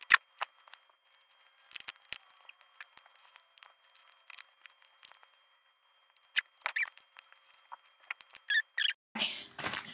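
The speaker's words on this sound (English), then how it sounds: "So okay, so then cut off another piece." Scissors cutting a piece of material for a Sinon cosplay prop, a string of short, quiet snips and crinkly rustles spaced irregularly with pauses, close by, ending in a longer scraping rustle.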